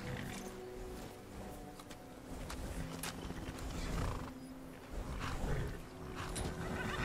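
A horse in the video game Skyrim snorts and shuffles nearby with faint hoof sounds and a whinny-like call, heard among ambient game noise with no talk.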